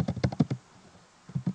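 Fingers tap a computer keyboard in quick close bursts, several crisp keystrokes, a short pause, then a few more.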